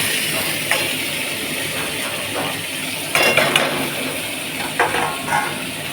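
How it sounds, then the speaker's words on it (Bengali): Boiled, drained chana dal dropped into a hot kadai with asafoetida, a steady loud hiss of frying throughout with a few scattered clinks and scrapes of a spoon against the pan. "ছোলার ডালটা আমি সিদ্ধ করে রেখেছিলাম সিদ্ধ করার পরে জলটা ঝরিয়ে নিয়েছি এটা আমি এবার দিয়ে দেব কড়াইয়ে"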